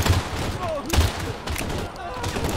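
Close-range shotgun blasts in a video game, two or three heavy booming shots amid battle noise, with talk running underneath.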